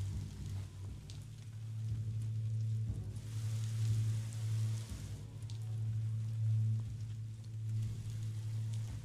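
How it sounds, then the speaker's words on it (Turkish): Steady rain patters in the video game Biomutant, a soft continuous hiss of drops on surfaces over a low droning hum, with no talking. "Şu yağmur yağıyor."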